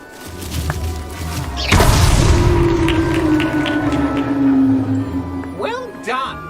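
A fire spell cast with a wand in the Hogwarts Legacy video game: a sudden booming burst followed by a sustained whooshing roar that trails off, with a voice speaking over it.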